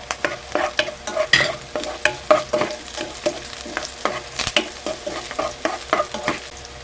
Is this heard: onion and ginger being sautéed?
yes